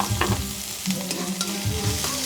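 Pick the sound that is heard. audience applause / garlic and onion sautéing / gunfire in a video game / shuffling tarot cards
garlic and onion sautéing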